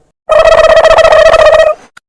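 A phone's message notification tone plays alone, a loud bright melodic chime lasting about a second and a half, then fading with a tiny blip after.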